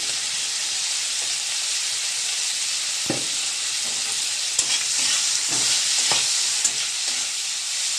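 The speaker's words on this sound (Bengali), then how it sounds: "একটু হিং ফোড়ন দিলাম।" Asafoetida is added as tempering to hot oil in a pan where prawns have just been fried. A bright, continuous sizzle carries throughout, broken by a few soft stirring knocks.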